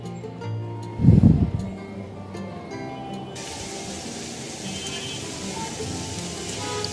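Carrots, chicken and broccoli are tossed together in oil in a pan over high heat. A dull thump is followed by a steady, hissing sizzle that continues without talk.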